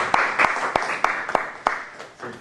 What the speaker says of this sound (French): Je te remercie et applaudis.